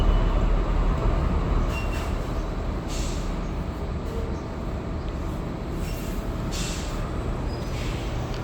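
A Washington Metro train rolls into New Carrollton station, a steady low rumble of wheels and motors easing down as it stops, with faint hissing bursts from brakes and no talking.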